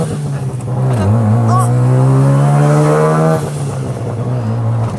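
A Mazda RX-7 race car accelerating hard, its loud rotary engine note climbing steadily in pitch then dropping at a shift and pulling again, very close and dominant, with voices speaking over it.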